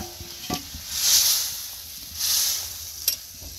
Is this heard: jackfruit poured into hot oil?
yes